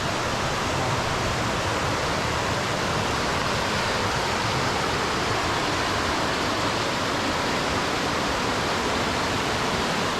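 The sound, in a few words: roaring valley stream water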